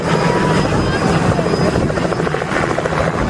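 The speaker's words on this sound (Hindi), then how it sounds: "देखिए सामने वो हेलीकॉप्टर लैंड कर चुका है यहाँ से।" A helicopter sits after landing in a village, its rotor and engine a loud, continuous thudding roar that fills the scene, with crowd voices faintly beneath.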